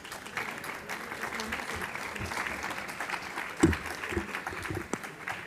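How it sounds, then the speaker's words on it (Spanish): Applause fills the room at a book presentation for "Reforma Política" at the Lima book fair, a steady, fairly soft wash of many hands clapping at a distance with no one speaking over it. "pido nuevamente unas palmas para comenzar con esta mesa"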